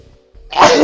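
A sneeze bursts out at close range after a short quiet stretch, one sharp loud broadband blast that holds to the end, heard during play of an Undertale genocide run.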